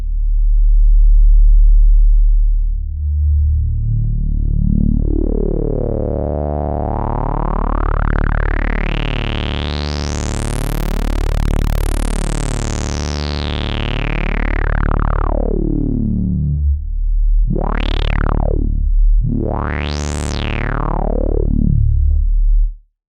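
A GForce Oberheim SEM synth plugin plays a loud, low 40 Hz tone that swells and sweeps upward in pitch and back down, then gives two shorter rising and falling sweeps before cutting off.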